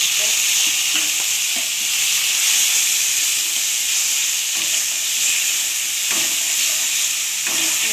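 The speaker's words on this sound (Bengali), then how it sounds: "তারপর দিয়ে দিচ্ছি টমেটো" Chopped tomatoes go into hot oil with green chillies and bay leaf for a spicy vegetarian telakucha greens dish, and a loud, steady sizzling hiss fills the pan, broken by a few faint stirring clicks.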